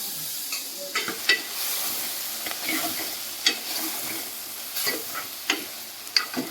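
Brinjal curry frying in a pan with salt added, a steady broadband sizzle running throughout with repeated sharp clinks and scrapes of a spoon stirring at irregular intervals, close and moderately loud with no talking.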